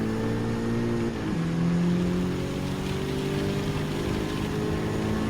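Racing car engines in Gran Turismo 7, including a 1997 Toyota Supra RC, drone steadily and loudly with shifting pitch as one car closes in, with no talk.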